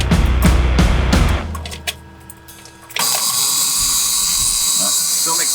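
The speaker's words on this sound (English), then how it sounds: "let's turn the bus on and check for air leaks." A school bus engine cranks with a rattling mechanical whir, dips briefly, then catches and settles into a loud steady idle with a bright hissing roar that continues to the end.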